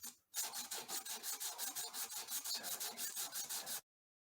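A wooden block rubbed back and forth on sandpaper during guitar repair work, a rapid, regular rasping of about a dozen even strokes, close and alone, ending abruptly.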